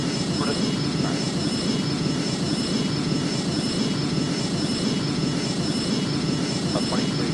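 Jet airplane taking off from a runway, a steady loud roar of engine noise rising across the whole stretch, with no voices.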